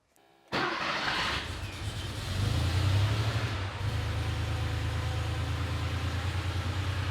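A car engine, powered by a portable jump starter clipped to the battery, cranks and catches after a brief silence, then briefly revs before settling into a steady, close idle. No one speaks.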